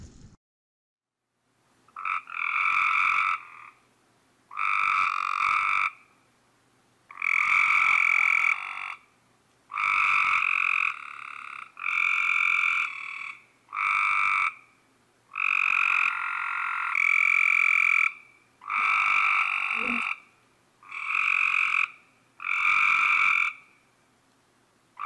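Frogs croak in a long series of loud, raspy bursts, each lasting about a second or two and separated by short pauses, repeating steadily with nothing else heard.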